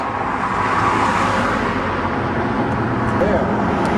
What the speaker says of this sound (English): And that's a bunch of cars passing by.